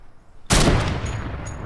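A single heavy sniper rifle shot in Fortnite Mobile fires as a sudden loud blast, then rolls into a long, slowly fading reverberant tail, with faint high tones ringing above it.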